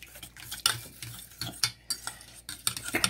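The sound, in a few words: stirring warm butter into scone mixture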